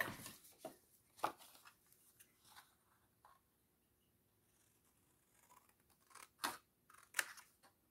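Scissors snip through fabric for a corset pocket in quiet close-up, a sparse series of faint crisp cuts with a few sharper snips near the end.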